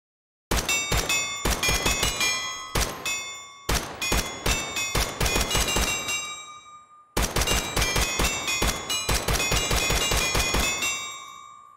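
Rapid AR-15 rifle magazine dump fired in a video game, with loud bursts of gunfire and ringing metallic pings in quick succession, a short pause, then more sustained fire that tails off at the end.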